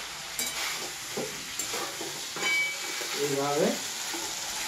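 Masala paste sizzles in hot oil as water is splashed in and stirred. A continuous loud hiss dominates, with spatula scrapes and a brief spoken word from a nearby voice.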